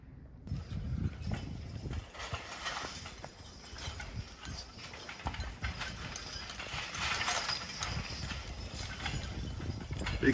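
Hooves of heavy Belgian draft horses clop steadily while the team drags big maple logs up a steep hill in timber country, a continuous uneven plodding under outdoor noise and a high whine.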